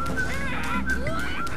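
Poultry calls in the Skylanders Trap Team video game, loud honking clucks repeating over steady game music and ambience, with no talking.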